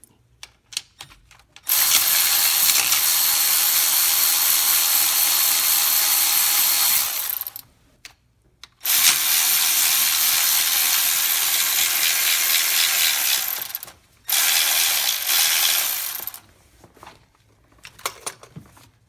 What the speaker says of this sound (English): Now we're also going to remove the 2 bolts right here on the driver's side